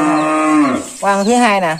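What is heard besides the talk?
cow mooing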